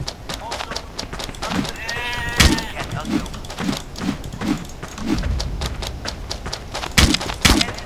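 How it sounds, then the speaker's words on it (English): A goat bleats in the World War II shooter Dino D-Day amid game noise and clattering hooves, while players talk over it. "I killed a defenseless goat"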